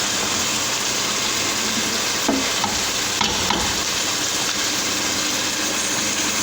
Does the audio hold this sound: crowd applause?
no